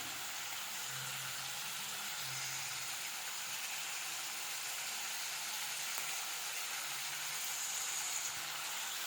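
Onions sauté in a pan with a soft, continuous sizzle and crackle, faint and steady from start to finish, with no voices.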